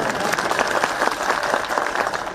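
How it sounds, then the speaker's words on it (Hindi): Audience at an outdoor public rally in Dalhousie claps steadily during a political speech, a brief burst of dense, moderately loud applause. "पुरुष भाई ताली बजाओ आप लोग"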